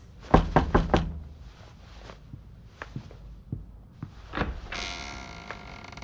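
Four quick, firm knocks on a wooden door in a horror video game ring out close and loud. Scattered soft thumps and footsteps follow, then a sustained eerie tone swells in, with no talking.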